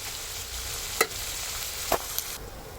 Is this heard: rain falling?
no